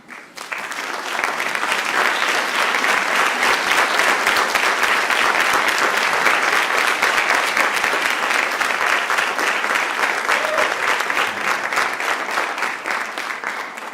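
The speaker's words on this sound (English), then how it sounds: "we're just gonna clap again for all the speakers." An auditorium audience at a graduate Three Minute Thesis competition claps for all the speakers, dense sustained applause that swells quickly and holds loud for over ten seconds before easing slightly.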